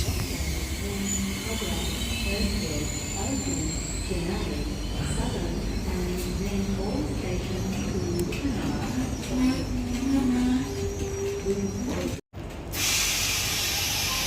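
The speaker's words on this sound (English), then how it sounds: "a Tangara T-set, T102 being the front 4 cars, is now departing on platform number 4, bound for a Cronulla service" A Tangara T-set electric train, eight cars long, departs platform 4 at Wolli Creek station on a Cronulla service, with steady broadband hiss and rumble, brief motor whine, and birds cooing nearby.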